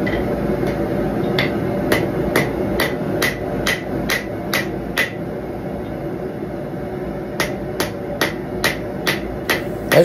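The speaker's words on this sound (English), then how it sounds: "I swung this hammer in this video more times than I've ever used it before" Sharp metallic hammer strikes ring out in a steady rhythm as steel is forged into a hunting knife, a rapid series of blows, a short pause, then another run, over a constant background hum.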